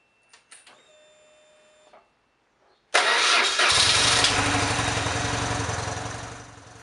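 BMW R 1150 GS motorcycle engine starting, with a few faint clicks and a brief tone before the engine catches and settles into a loud, steady idle.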